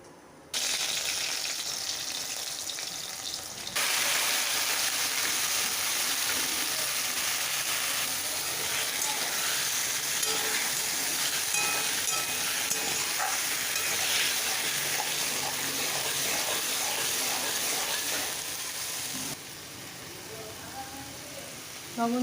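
Washed taro is tipped into hot oil in a pan where fish was just fried, setting off a loud, sustained sizzle with scattered clicks and scrapes of stirring that eases slightly near the end.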